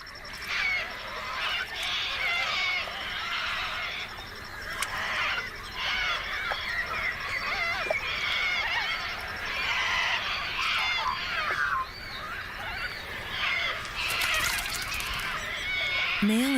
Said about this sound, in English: probably frightened by the noisy bathing cockatoos